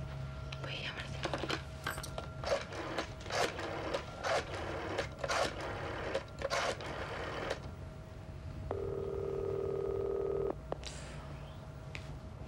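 A telephone ringback tone while placing a call: a run of rapid clicking and tapping, then one steady electronic tone lasting about two seconds before it cuts off.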